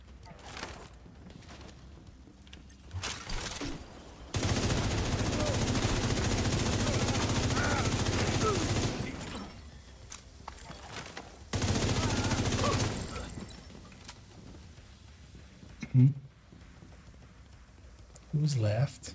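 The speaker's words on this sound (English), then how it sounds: "Multi-missile launcher." Sustained roaring bursts of a multi-missile launcher firing in The Division, two long loud barrages separated by quieter gaps, with sharper blasts and voices talking near the end.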